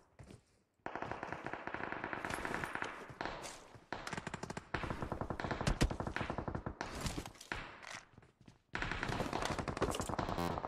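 Rapid automatic gunfire in PUBG Mobile, several long close bursts of shots separated by brief pauses, loud and dominant with no talk.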